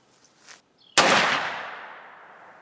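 A single sharp, loud gunshot from a Ruger Old Army black powder revolver cracks out and trails off in a long decaying echo, preceded by a few faint quiet sounds.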